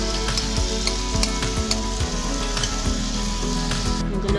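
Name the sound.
marinated paneer pieces sizzling in pan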